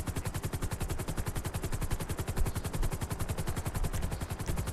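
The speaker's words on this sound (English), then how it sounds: "Who's shooting at me?" Rapid automatic gunfire in a roleplay video game, a dense, continuous burst of close, loud shots with no pauses.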